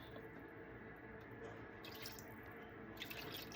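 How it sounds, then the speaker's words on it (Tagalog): A little water pours from a tap into a pan of pork simmered with tomatoes and cabbage, a faint, steady trickle and splash under quiet room noise. "So lalagyan ko na ng tubig."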